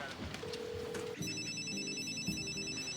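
A telephone rings in a tense drama scene, with shrill electronic ring bursts that begin partway through over background music and ambience.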